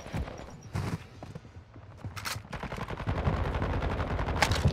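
Rapid gunfire in a multiplayer shooter video game, with scattered single shots and quick bursts of varying distance crackling over game ambience, and no talking.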